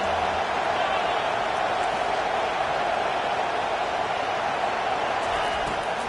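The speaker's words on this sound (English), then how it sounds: "this crowd is tearing the lid off this place" A college football stadium crowd roars on third down, a constant, dense wall of noise with a commentator talking over it.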